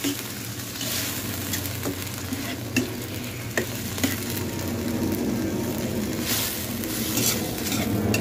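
Balbacua stew being stirred in a pot: constant bubbling sizzle with repeated scrapes and knocks of the spoon against the pot, close and continuous, with no voices.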